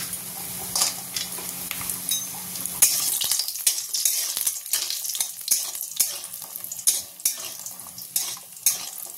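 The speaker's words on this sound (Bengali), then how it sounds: "দেখো, কড়াই প্রথমে তেল নিয়ে নিয়েছি, তেলটা গরমও হয়ে গেছে। এবার আমি কটা বড়ি ভেজে নেব।" Bori lentil dumplings fry in hot oil in a wok, giving a steady crackling sizzle broken by repeated sharp scrapes and clinks of a spatula stirring against the metal.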